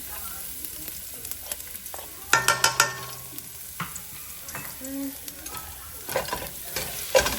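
Garlic sizzling in olive oil in a hot pan with a cluster of scraping, clattering stirs, then quieter frying and more utensil clinks; a voice speaks briefly.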